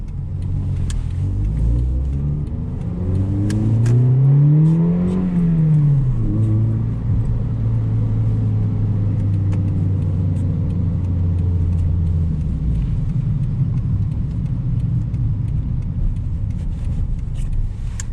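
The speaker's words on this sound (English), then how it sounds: "It's loud now that the transmission's all warmed up." A car engine drones loudly, rising and falling as it revs, with a whining, warmed-up transmission tone sweeping up then holding steady before fading into road rumble, driving at night.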